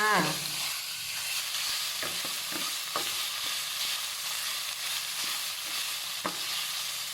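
Pork belly stir-fried in red curry paste sizzles steadily in a hot pan, a close constant frying hiss with occasional soft scrapes and stirring knocks, no voices.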